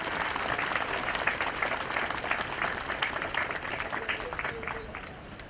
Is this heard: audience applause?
yes